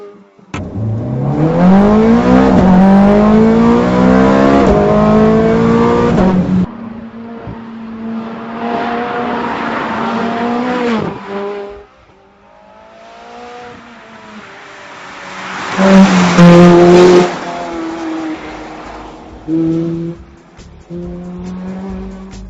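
A 2009 Ferrari 430 Scuderia drives hard on a bumpy secondary road, its engine revving loudly and climbing through repeated gear pulls, easing off between bursts and then surging again close by.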